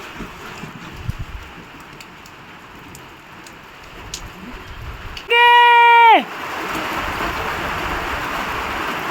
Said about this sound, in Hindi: बारिश की बूंदें दिख रही है आपको, ये देखो।